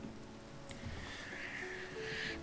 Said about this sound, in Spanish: Esto está como lloviendo.